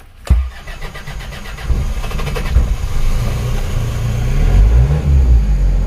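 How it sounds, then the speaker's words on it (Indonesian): An Isuzu Panther car engine cold-starts in the morning: a sharp cranking burst catches within a second, then settles into a loud, steady low idle that thickens slightly toward the end, close by with no talk. "akan kita coba start pagi, apakah benar-benar sulit ya teman-teman ya"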